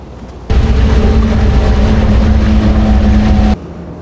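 The new motor yacht Enjoy Life's engine leaving the harbour on a trial run: a steady, loud, droning hum with a constant low tone, starting abruptly and running evenly for about three seconds before cutting back to quieter background.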